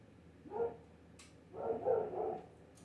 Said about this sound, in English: No, shut up, dog.